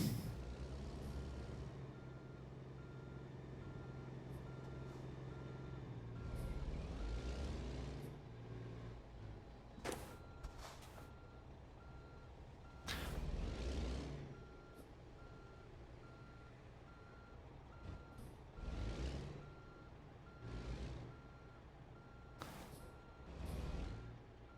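Reversing beeps from a truck backing up a short trailer in American Truck Simulator, a steady repeating pulse joined by loud hissing air-brake bursts and low engine rumble.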